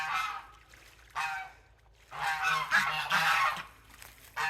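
Geese honk in a farmyard pen with hay and fresh water, a few close, loud bursts of nasal calls separated by brief quieter gaps.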